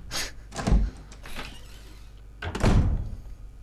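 Doors opening in the video game Resident Evil HD Remake, two heavy thudding creaks a couple of seconds apart with fainter clunks between them, fairly quiet overall.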